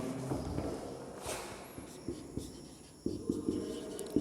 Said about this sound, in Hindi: थोड़ा बड़ा लिखता हूँ